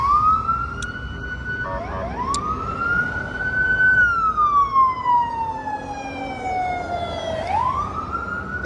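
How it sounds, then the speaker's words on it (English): Emergency vehicle siren wailing on a busy downtown Guadalajara street, a loud rising and falling tone sweeping slowly up and down over the low rumble of traffic. "There are sirens."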